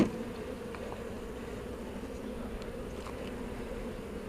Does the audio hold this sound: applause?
no